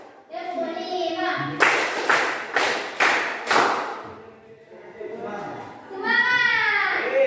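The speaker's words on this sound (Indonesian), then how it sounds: "Tepuk semangat." Five evenly spaced, loud group claps ring out in a classroom, framed by children's chanting voices before and after the rhythmic burst.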